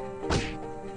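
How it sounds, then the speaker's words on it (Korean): A single heavy thwack of a fist punching a face, a dull smacking impact that rings briefly against a steady hum. "그가 다시 입을 열려고 할 때 내 주먹이 그의 입을 막았다."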